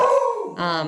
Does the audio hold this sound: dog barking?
yes